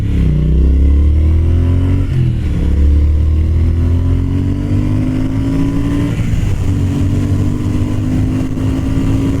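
Triumph Speed Twin motorcycle, a 95-horsepower bike weighing about 440 pounds, revs loudly and continuously while riding, the engine note rising in pitch, dipping at a gear change, then climbing again close up over steady wind rumble.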